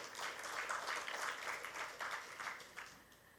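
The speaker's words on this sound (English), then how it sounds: "A huge round of applause for sir." An audience at a finance panel event applauds, a faint, distant patter of clapping that holds steady for a few seconds before tapering off.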